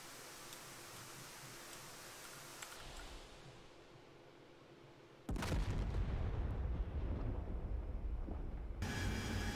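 An IR Maverick missile fires from an A/V-8B Harrier in the DCS flight simulator. A steady cockpit hum is broken by a sudden loud launch whoosh that turns into a sustained roar before it drops away. There is no speech.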